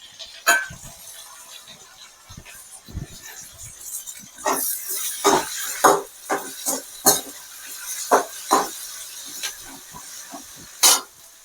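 Tomatoes sauté in a pan with potato, carrot and onion for vegetable rava kichadi, giving soft sizzling broken by a series of sharp clinks and scrapes from stirring, irregular and close.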